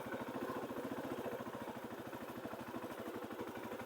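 A Kawasaki KLX300 motorcycle fitted with a 13-tooth front sprocket rolls along off the clutch, its engine chugging in a steady, rapid low thump that stays even and close throughout, with no voices.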